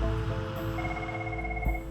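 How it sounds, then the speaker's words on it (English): The scramble phone at the RAF Topcliffe air ambulance base rings with a steady, continuous electronic tone, fairly loud and alone, with a low hum underneath. "At RAF Topcliffe, the scramble phone is ringing"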